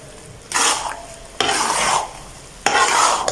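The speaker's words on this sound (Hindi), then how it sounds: "अभी डाल देते हैं चावल। बिस्मिल्लाह। इसको हम मिक्स कर देते हैं।" Rice being stirred into a pot of sweet mutanjan, three distinct scraping stirs, each a rough, close swish lasting under a second with brief pauses between.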